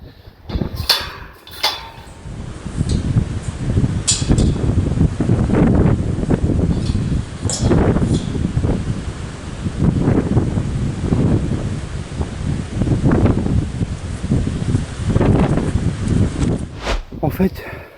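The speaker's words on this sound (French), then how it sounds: "plus je monte, plus le vent se lève" Gusty wind, rising as the climb goes higher, buffets the microphone in rumbling low bursts, rising and falling steadily over the whole stretch, with a few knocks near the start.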